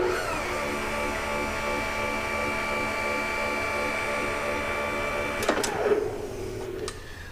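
Bridgeport milling machine table traversing under power, a steady mechanical whine with a humming motor tone running for several seconds, then winding down with a clunk and a few clicks as it stops.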